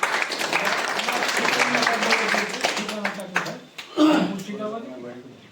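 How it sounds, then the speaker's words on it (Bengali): An audience at a literary magazine festival in Aurangabad claps for an author, a few seconds of lively applause that fades and gives way to a speaker's voice. "তার জন্য আমরা একটু হাততালি দিয়ে তাকে অভিনন্দন জানাবো"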